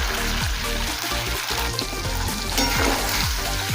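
A sauce mixture and cornflour slurry for chilli egg hitting a hot pan, giving a dense continuous sizzle and bubbling with repeated stirring scrapes, loud and close, no talking.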